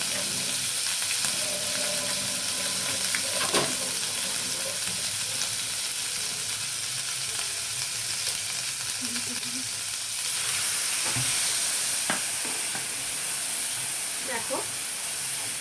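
Cumin and spices sizzling in a hot pan, a steady broadband frying hiss running throughout, with occasional stirring scrapes and a brief voice in the background.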